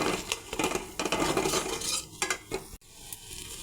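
Ground coconut paste is stir-fried with spices in a pan, close scraping and clattering of a spatula against the metal over a light sizzle, with a sharp knock near the end.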